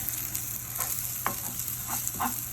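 Portabella mushrooms sautéing in a pan, a soft, steady sizzle broken by a few stirring and flipping scrapes, with no talk.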